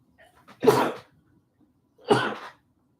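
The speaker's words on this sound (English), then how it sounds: "I have a sneeze." Two sharp sneezes, close and loud, about a second and a half apart, with quiet between them.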